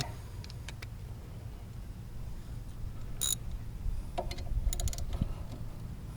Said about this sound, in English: My ratchet's going the wrong way.